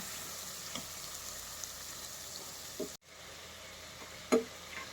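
Packet spice masala frying in a pan for a wedding-style chicken roast gravy, with a low, steady sizzle close by. A few soft taps and scrapes from stirring break through now and then.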